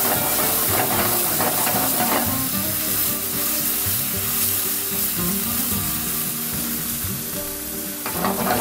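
Water splashed into a hot pan of extra virgin olive oil, giving a loud, continuous sizzle and crackle with a hissing steam edge that stays steady the whole time, with no talking.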